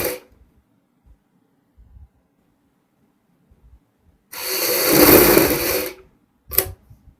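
A sewing machine stitches a neck strip onto a kurti in one steady burst of about a second and a half, followed by a brief second run, with quiet handling noises before it.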